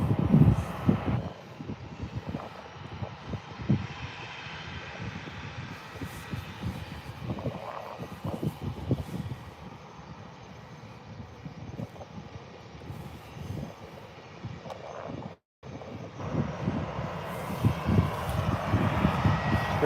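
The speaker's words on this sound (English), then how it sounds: "EasyJet A320 off over to Mallorca." EasyJet Airbus A320 taking off from Birmingham Airport, a steady broadband jet engine roar heard from outside that holds at a moderate level for about twenty seconds, with a brief dropout midway.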